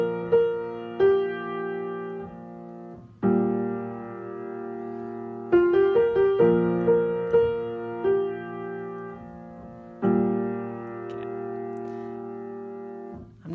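Piano plays the worship song Surrounded, with sustained left-hand chords changing every few seconds beneath a right-hand melody of clear, close single notes, instrumental and without singing.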